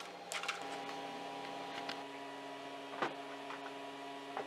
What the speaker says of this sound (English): I will feed it into the printer and we'll make a little test print.